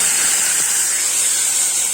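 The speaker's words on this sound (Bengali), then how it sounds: "ভাজা ডালটা ধুয়ে নিয়ে এবার কড়াই ঢেলে দেবো।" Washed fried lentils poured into a hot kadhai with dried chilli and cumin, giving a loud, continuous, close hiss of sizzling steam that holds steady throughout, with no speech.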